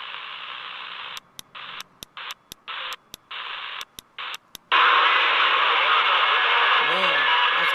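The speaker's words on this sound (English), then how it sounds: "It's the Mexican radios on channel 5. That's what we're hearing." CB radio receiving sideband bleed-over from Mexican stations on channel 5: hissing static broken by rapid clicking dropouts, then a louder, steadier burst of garbled noise with a faint distorted voice toward the end.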